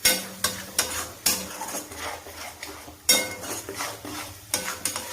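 A spoon or spatula scrapes and clinks against a pan while spiced potato curry cooks, with sharp irregular knocks every second or so over a faint sizzle, close and without talk.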